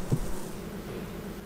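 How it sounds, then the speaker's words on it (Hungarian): Honey bees buzz steadily at a beehive a beekeeper has just opened, a dense, continuous droning hum of many insects close by with no talk. "A méhész a megfelelő védelmet biztosító öltözékben felnyitja a kaptárt."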